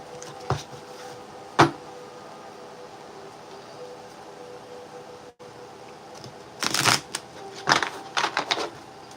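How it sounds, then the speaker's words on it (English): A deck of tarot cards is shuffled in a few scattered, riffling bursts with quiet gaps between, close and fairly soft, with no talking. "That was a horrible shuffle."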